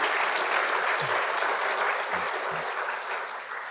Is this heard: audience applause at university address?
yes